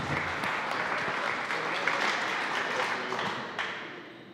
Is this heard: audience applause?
yes